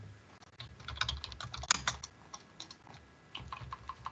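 Rapid typing on a computer keyboard, a steady run of close, crisp key taps with a few louder strokes and brief pauses, no voices.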